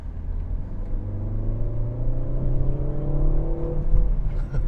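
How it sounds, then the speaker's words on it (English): Exhaust of a 2022 Peugeot 3008 SUV while driving, a steady low engine drone with rising gear-change tones through the run, close and moderately loud, without talk. "You hear that sound of the exhaust?"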